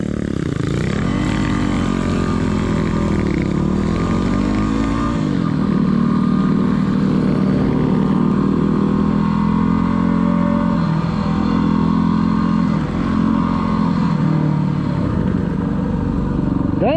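Close and loud, a small motorcycle engine rides steadily and revs up through its gears. Rising pitch sweeps are broken by brief dips at each shift, and the drone continues without a break.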